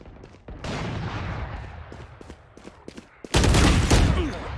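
Rapid bursts of gunfire from the video game Valorant during a team deathmatch, steady volleys with a sharper, louder burst near the end, plus a few isolated shots in between.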